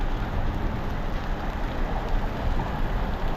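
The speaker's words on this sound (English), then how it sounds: "At least some pea-sized hail." Pea-sized hail pours down in a San Antonio storm, a loud, steady drumming hiss of countless small impacts filling the whole stretch without letup.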